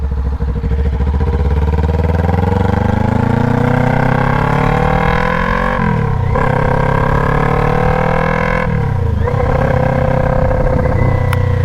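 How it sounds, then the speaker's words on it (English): A 2021 Kawasaki Ninja 400 engine runs with the muffler removed, very loud and close, its raw exhaust rising and falling through repeated throttle revs with a crackling, rapping tone. "So we removed the muffler and discovered that it's kind of loud."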